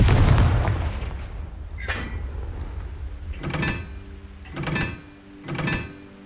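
Confringo blast spell in the Hogwarts Legacy video game: a few sharp explosive booms spaced about a second apart after an opening rumble, fairly loud and close, with no talking.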